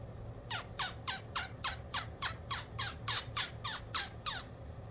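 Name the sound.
air-operated turkey call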